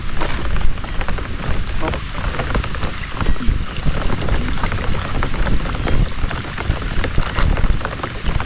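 Steady, heavy rain falls outdoors as a dense, continuous wash close to the listener, with no voices over it.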